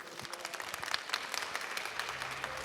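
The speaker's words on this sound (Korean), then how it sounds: "열정적으로 유익한 강연 들려주신 농림수산식품교육문화정보원 최민규 강사님께 다시 한번 큰 박수 부탁드리겠습니다" An audience claps after a two-hour lecture at a farming and rural-living academy held at an agricultural expo, a dense, even round of applause that holds steady and sounds somewhat distant, without speech.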